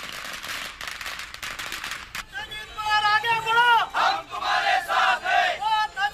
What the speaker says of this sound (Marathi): कार्यकर्त्यांकडून फटाके फोडून व्यक्त करण्यात येतोय